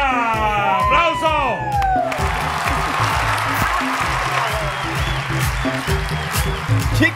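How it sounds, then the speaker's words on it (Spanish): Studio audience applause and cheering on a Spanish-language TV variety show, loud and continuous after a bright musical sting, with whoops and crowd noise rolling underneath a steady rhythmic beat. "¡Aplauso!"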